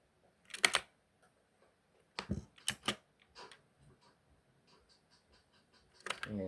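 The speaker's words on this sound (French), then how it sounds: "regardez, juste que je tape sur la barre d'espace, c'est dingue." A computer keyboard's space bar is struck several times in sharp, separate clacks, loud and close, with a few faint softer taps between them in an otherwise quiet room.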